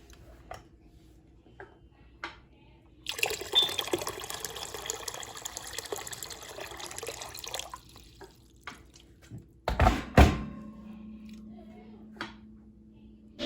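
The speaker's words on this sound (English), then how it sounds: "I'm filling this one, the green one, with water, and I'm gonna add some hot water" Hot water poured from a tap into a green container, a rushing fill that runs for several seconds, then sharp splashes and drips, with quiet clinks around it and no talk.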